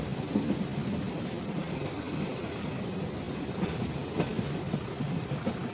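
An old passenger train rolls along the rails in the Uttar Pradesh countryside with a steady, heavy rumble and a faint clatter of wheels, heard from inside the carriage, with no one talking.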